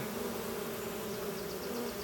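Honeybees buzz at the entrance of a hive during a transfer from a nucleus box to a ten-frame hive, a dense steady drone of many bees, close and continuous.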